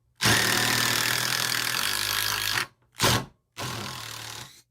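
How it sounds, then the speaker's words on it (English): A loud power tool whines steadily for more than two seconds. It cuts out, then gives a short burst and a longer final run. It sounds close, and there is no talk. "That sounds like a deep drill."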